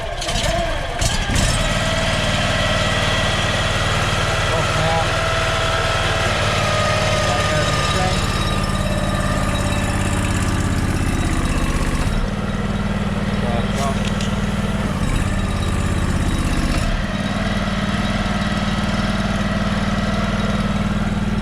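Honda engine on a truck-mounted drain-cleaning machine running at a steady idle, a loud buzzy drone with strong low harmonics, close by and continuous with slight changes in load.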